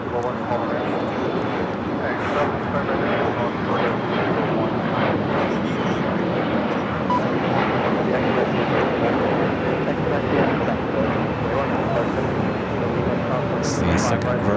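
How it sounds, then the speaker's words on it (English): A Virgin Airbus A350-1000 jet roars continuously and loudly at Los Angeles International Airport, a broad engine rumble holding steady throughout, with speech heard over it. "It's the second Virgin A350 1000 flight of the day."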